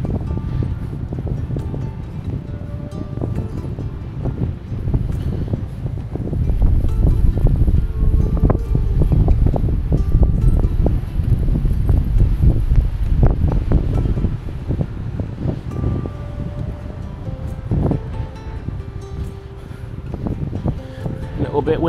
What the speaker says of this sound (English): Bit windy here, guys, sorry about that.